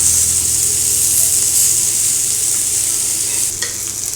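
Raw plantain slices fry in oil in a hot pan, a loud, dense hiss of sizzling that drops away near the end as the pieces are turned over, with a brief scrape; nobody speaks.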